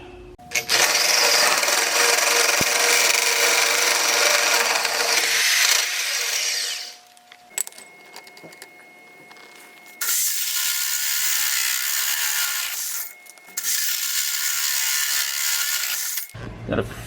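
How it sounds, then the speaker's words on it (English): A power tool notches steel tubes for a rally car roll cage, loud grinding bursts of several seconds each, separated by brief quieter pauses with faint mechanical rattling. "So let's start notching some tubes."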